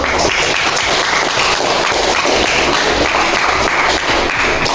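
Sustained applause from a classroom audience after a group presentation, a dense, even wash of many hands clapping at once, loud and close, holding steady from start to finish.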